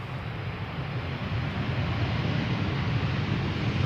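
British Airways flight 430 from London Heathrow arriving at Amsterdam Schiphol on a sunny day, its engines a steady, broad roar that holds evenly throughout at moderate distance.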